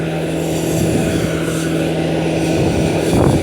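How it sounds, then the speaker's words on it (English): A large vehicle's engine roars close by in a steady, loud drone that holds for the whole stretch, with no talking. "We're gonna pass by this truck."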